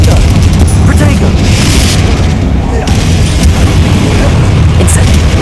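Loud, dense rumbling booms and bursts from explosion spells in Hogwarts Legacy fill the scene continuously, with game voices mixed in.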